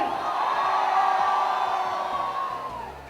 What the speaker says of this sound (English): Crowd, come on, make some noise!